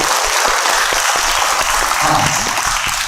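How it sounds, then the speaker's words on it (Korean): An audience at a CEO lecture series held at a Buddhist temple gives sustained applause, a dense, even wash of many hands clapping that swells slightly toward the end. "박수 부탁드립니다."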